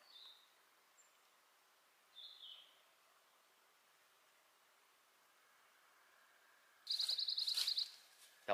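A pine warbler sings a single rapid, even trill near the end, loud and clear over quiet open-air background on a ridge along the Appalachian Trail, with a couple of faint chirps earlier.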